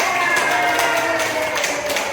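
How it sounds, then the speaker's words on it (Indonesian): An indoor audience claps together in a continuous patter of many hands, moderately loud and even, with a hint of crowd murmur underneath. "Oke, tepuk tangan"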